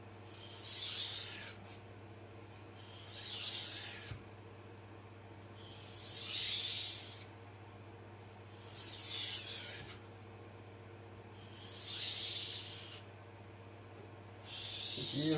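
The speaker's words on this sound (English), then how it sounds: "Even it releases abrasive at a high factor when stropping." A knife blade is drawn back and forth along an abrasive strop, giving five or six evenly spaced, breathy rasping strokes, each about a second long, close and fairly quiet over a low hum.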